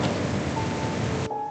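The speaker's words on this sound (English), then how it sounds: "So it was suddenly having a huge downpour with thunder and lightning in the background." Heavy rain pours in a dense, loud, continuous roar with a low rumble of thunder beneath, cutting off abruptly near the end.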